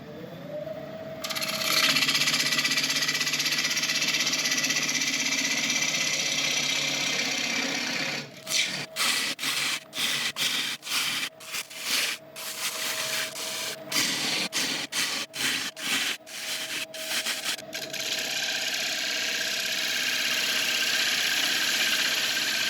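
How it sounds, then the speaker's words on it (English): A wood lathe hollows out a beech bowl, a loud steady whir broken midway by a rapid run of sharp, rhythmic tool chatter before the smooth spinning hum returns. "we can carry on hollowing out"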